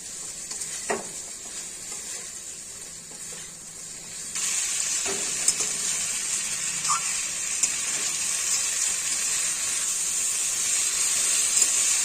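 Shrimp drop into a pan of hot ghee for echor chingri, and a low sizzle jumps to a louder, steady hiss, broken by a few soft stirring knocks, close with no talking.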